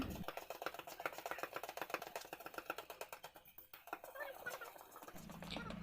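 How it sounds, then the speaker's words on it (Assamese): Cake batter is beaten by hand in a bowl with a spoon, a fast steady run of scraping, tapping strokes that carries on almost without a break and is heard close up. "মইতো এয়া ফাৰ্ষ্ট টাইম কেক ফিটিব লৈছোঁ।"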